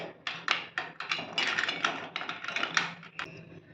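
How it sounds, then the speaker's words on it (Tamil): Pieces of rock sugar tumble into a mango kulfi mixture, making a close, rapid run of small hard taps and clicks that lasts several seconds with no talk over it. "ஜீனிக்கு பதில நான் கல்கண்டு போடுறேன்"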